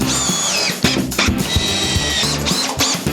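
A power drill drives screws into a timber stud frame for a shower wall, its motor whining up and stopping in several short close bursts with brief pauses between.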